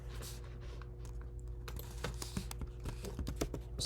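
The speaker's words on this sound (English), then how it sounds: "let's type in our prompt." Fast, steady typing on a computer keyboard, close and fairly quiet, with crisp irregular key clicks running throughout and no voices.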